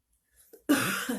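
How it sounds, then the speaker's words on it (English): A single adult cough, a harsh throaty burst preceded by a faint intake and small throat noise, close and loud in an otherwise quiet room. "That's an old cough, by the way."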